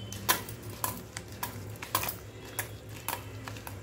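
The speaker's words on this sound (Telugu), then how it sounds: "కొంచెం వేసుకొని ఇదంతా ఇలా కలిపేసుకుందాం." Rice idli batter being stirred and mixed by hand in a vessel after adding salt, a series of close, irregular scraping and clinking strokes over a low background hum.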